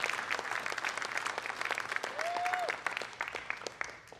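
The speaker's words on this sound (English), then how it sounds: "have a big round of applause for Lori Mercier and Nikki Mandel" An audience at a panel discussion claps in a dense, continuous round of applause, close and fairly loud, with a brief whistle partway through and the clapping thinning toward the end.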